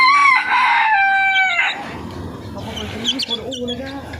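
A rooster, one of a pair of chickens being sold, crows loudly with a sustained call at the start, then gives way to quieter clucking and farm noise.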